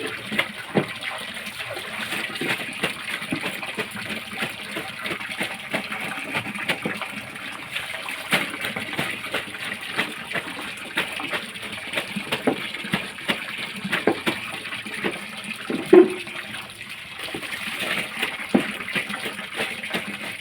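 Water pours down heavily in a steady, continuous rush with small splashing flickers throughout, fairly close and unbroken for the whole stretch.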